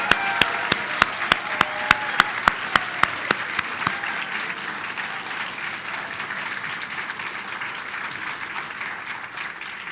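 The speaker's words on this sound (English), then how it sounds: "Let's hear the cheering and clapping for our graduates." Cheering and clapping for graduates rise at the 2022 SIM – La Trobe University graduation ceremony, with loud sharp individual claps near the front early on over a steady wash of crowd applause that continues evenly.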